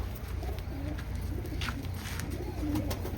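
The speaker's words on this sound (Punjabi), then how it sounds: "ਇੱਕ ਕਬੂਤਰੀ ਆ ਵਾ ਆ ਵੀ ਤੁਹਾਨੂੰ ਦਿਖਾ ਦਿੰਨੇ ਆ ਕਬੂਤਰ" Pigeons coo softly and repeatedly over a steady low background hum, with a few faint chirps mixed in.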